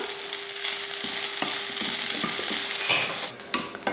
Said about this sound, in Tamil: கொஞ்சம் எண்ணெய் ஊற்றி இதை வதக்கிடலாம் வெங்காயம் இஞ்சி பூண்டெல்லாம் நல்லா வதங்கினதுக்கப்புறமா